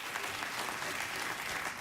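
A late-night TV studio audience applauds, a brief, fairly quiet, even wash of clapping with no voices over it.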